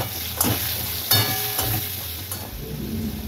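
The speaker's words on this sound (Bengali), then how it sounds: "এবার এটাকে একটু ফ্রাই করে নেব।" Potato pieces seasoned with salt and turmeric sizzle steadily in a pan of oil as a banana-flower dish is prepared, with a few soft stirring scrapes breaking through the constant crackle.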